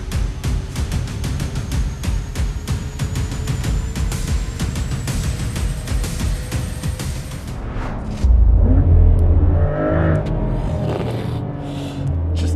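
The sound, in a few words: Porsche Macan Turbo engine revving and shifting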